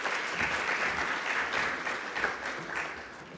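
Forum audience in Namibia claps in a short, even burst of applause, moderately loud and unbroken throughout.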